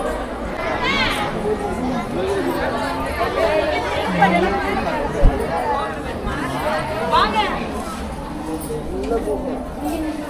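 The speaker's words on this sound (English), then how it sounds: "Today definitely no meditation will be taking place because it has a lot of crowd" Dense crowd chatter and babble fills a Tamil Nadu temple cave, many overlapping voices close and steady, with occasional footsteps and small knocks mixed in.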